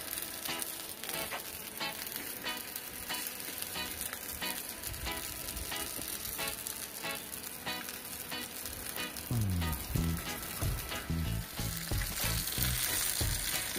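Leg of lamb sizzling over charcoal on a rotisserie, a continuous close fizzing and crackling sizzle with occasional louder spits and pops, no talk.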